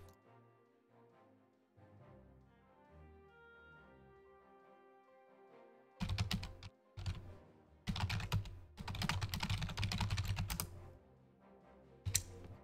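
Someone types on a computer keyboard close to a mic during an online card game, with bursts of clattering keystrokes after a quiet stretch and one last flurry at the end.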